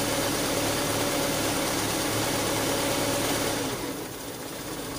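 A carburetor car engine idles with a steady hum, then its speed drops and the sound quietens toward the end.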